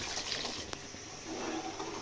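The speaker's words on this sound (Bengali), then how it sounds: "এখানে আমি 4 কাপ পরিমাণ পানি দিয়ে দিচ্ছি।" Water gushes and splashes as four cups are poured into a pot of chicken khichuri ingredients, a short close burst of pouring with a faint knock partway through.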